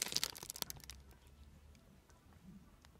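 A plastic package holding a Nike Team Fall Jacket crinkles sharply up close for about a second, then gives way to faint rustling.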